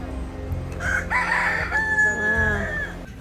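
A rooster crows once in Tahiti, a loud close cock-a-doodle-doo rising and holding before trailing off, with a low background rumble.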